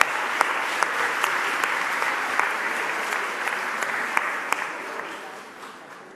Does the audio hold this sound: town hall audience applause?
yes